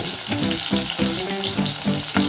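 Onion, curry leaves and peanuts fry in hot oil in a pan for semiya upma. The sizzle is dense, loud and close, with crackling pops and stirring scrapes throughout and no voices.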